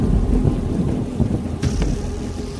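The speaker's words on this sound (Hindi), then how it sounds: "बारिश बहुत तेज थी, जिसकी वजह से गाड़ी चलाने में मुश्किल हो रही थी और मौसम भी बहुत ख़राब था" Heavy rain with a thunderstorm in a Hindi cartoon, a dense rumbling downpour with low thunder rolls and a sharp crackle partway through, loud and continuous with no talk.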